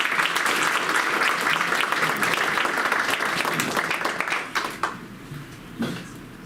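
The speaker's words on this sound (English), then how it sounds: "Let's give them a big round of applause" A school board meeting audience gives a sustained round of applause that holds steady for about four seconds, then thins into scattered claps and fades toward the end.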